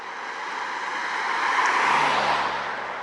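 A Mitsubishi car passes on a road near a border crossing between Georgia and Armenia, a smooth broadband whoosh swelling and fading over a few seconds, with no voices.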